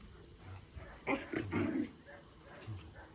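A three-month-old puppy at a training school makes a few low, brief grunting and whining sounds close by, over quiet background noise.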